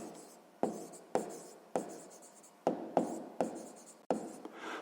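A maths task is written down by hand during a sixth-grade lesson, with a pen or pencil making quiet scratchy strokes in a series of short bursts, each beginning with a tap, close and faint.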